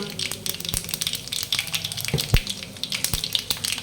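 Chana dal, urad dal and asafoetida sizzle and crackle in hot oil, a steady close frying hiss punctuated by several sharp pops and a few stirring knocks, with no talking.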